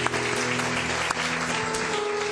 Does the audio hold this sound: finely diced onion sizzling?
no